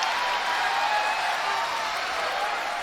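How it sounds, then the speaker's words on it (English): Dense, steady applause mixed with crowd cheering in the video game Farther than the Blue Sky, a continuous roar of clapping that holds at full volume throughout. "After a short pause, deafening applause and loud cheers erupted."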